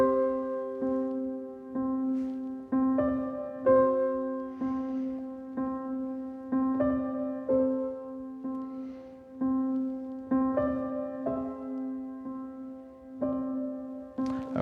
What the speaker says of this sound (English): I wrote a theme for Jack that sandwiches the tritone in between an open fifth and a minor third